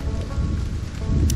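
Steady rain in the survival video game Stranded: Alien Dawn, a dense hiss of falling drops with a low rumble underneath, continuous and fairly loud with no voices.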